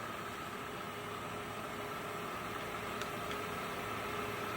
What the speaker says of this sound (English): Currently the machine is running on the high gear around at 2000 RPM